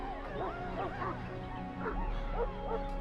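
A dog in the Dragon Age Origins video game gives a series of short yips and whimpering barks, about six or seven quick calls, heard over a steady low game ambience.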